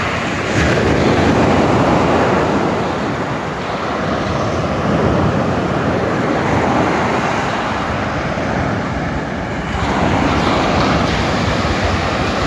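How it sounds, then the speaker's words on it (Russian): Steady, loud surf rolling onto a Black Sea shore near Novomikhailovsky, with continuous wash and roar of breaking waves and some wind buffeting the microphone, no voices. "Она была на море и прислала мне видео с моря."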